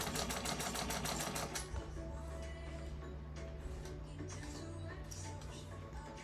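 A Juki 154 industrial sewing machine stitches through leather, giving a loud, steady rapid mechanical chatter that eases to a lighter, continuous hum with a few sharper clicks.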